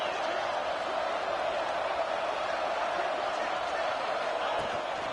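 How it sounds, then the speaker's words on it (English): Football stadium crowd roaring steadily near the goal line as the defense tries for a stop, a dense continuous wash of cheering that holds at an even level throughout. "And the crowd really making some noise now, trying to help out this defense to get this stop near the goal line."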